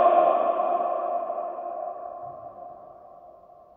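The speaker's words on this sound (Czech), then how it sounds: "ještě zkusím nějaký hlubší tón" A deep sustained test tone rings out in a school gym, loud at first and then slowly fading as it hangs in the reverberant hall for several seconds, with no voices.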